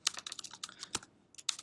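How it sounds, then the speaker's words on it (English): Computer keyboard typing during a calculator math walkthrough: a quick run of crisp key clicks in irregular bursts, a short pause, then a final flurry of taps, close and alone without talk. "So I'm just going to type this in."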